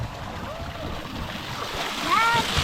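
Spring water pouring and splashing in the desert near the Colorado River, a steady close wash of falling water with wind, rising slightly toward the end, with a voice briefly audible over it.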